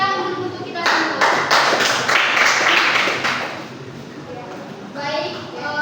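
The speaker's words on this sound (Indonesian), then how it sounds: "Baik, tepuk tangan dulu untuk kita semua." Children clapping together in a classroom, a burst of fairly loud group claps lasting a few seconds under a teacher's speaking voice, fading as talk resumes.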